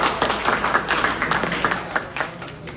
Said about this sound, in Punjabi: ਇੱਕ ਵਾਰ ਤਾੜੀ ਮਾਰੋ ਤੇ ਆਪਣੇ ਗਰੁੱਪ ਦੇ ਨਾਲ